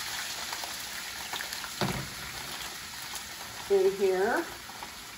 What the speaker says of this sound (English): So I'm just going to saute